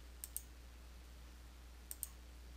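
Two pairs of quick mouse clicks, near and crisp, spaced about two seconds apart over a quiet hum while selecting Next in QuickBooks Desktop Pro 2023 user setup.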